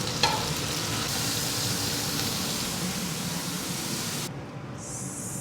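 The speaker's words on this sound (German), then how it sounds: "jetzt erstmal einfach nur das Fleisch von allen Seiten scharf anbraten" Roast beef sears in a hot pan with a loud, steady hiss and crackle, broken by a brief shift partway through before the sizzling continues.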